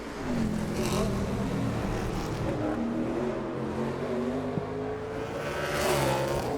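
A NASCAR Xfinity race car laps the track during qualifying at The Loop 121 in Chicago, its engine droning steadily with pitch shifts through braking and acceleration, heard from a distance and without voices.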